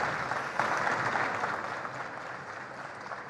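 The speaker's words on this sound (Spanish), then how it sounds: "mirá, te están aplaudiendo." Audience at a book fair interview applauding steadily, a dense wash of many hands clapping at moderate volume, fading slightly toward the end with no talk over it.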